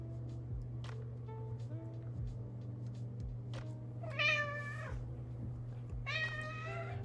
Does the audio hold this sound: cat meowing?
yes